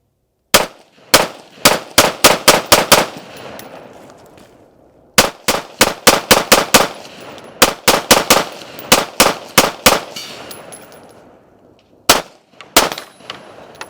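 Rapid bursts of gunfire from an AR rifle fitted with a CMC trigger, emptying a full magazine in several quick strings of loud, sharp cracks separated by brief pauses, close and alone with no talk.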